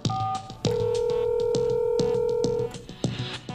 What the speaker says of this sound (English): Now press the speaker key to hear the dial tone.